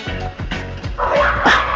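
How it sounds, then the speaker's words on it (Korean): Small dogs barking and yipping as they fight inside a cafe, sharp repeated barks followed by a louder scuffle of growls and whimpers, close and loud. "무슨 일인가 했더니 강아지들끼리 싸움이 벌어진 거였습니다"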